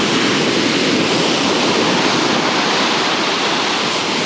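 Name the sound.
sea waves breaking into froth at a Devon cove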